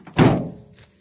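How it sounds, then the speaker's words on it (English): Back doors of a stealth camper van swing shut with one loud, close, heavy thunk, followed by a fading low rumble and a faint rattle. "Doors close up"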